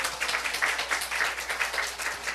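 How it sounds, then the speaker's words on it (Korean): A church congregation applauds in a sustained round of many hands clapping, dense and fairly close, with no speech over it. "그렇게 하실 하나님께 박수 올립니다."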